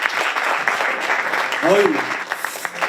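An audience applauds to welcome guests at a cooperative fund ceremony, steady clapping running throughout while a man briefly exclaims over it.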